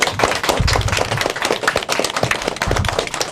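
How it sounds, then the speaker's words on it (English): A burst of lively applause, many hands clapping quickly and unevenly, close and loud, sustained throughout without talk. "I'd like to hear a really big round of applause for yourselves"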